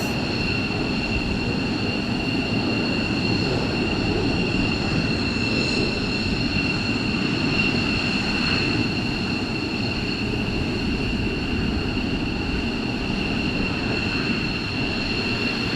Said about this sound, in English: we're going to wait for these to taxi in, and hopefully we'll get the arrivals